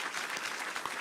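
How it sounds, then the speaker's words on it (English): Brief burst of audience applause at a gubernatorial candidate forum in Fresno, a dense, moderately quiet wash of clapping lasting about a second. "And now give them a round of applause."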